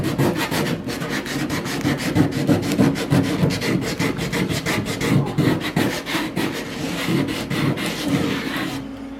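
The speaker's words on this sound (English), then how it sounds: "I'm just going to take some sandpaper and just go right around this edge and just kind of rough it up" Sandpaper is worked around the edge of a grey water tank during a cargo trailer camper build, making quick, rhythmic, close rasping strokes that continue steadily with no voice over them.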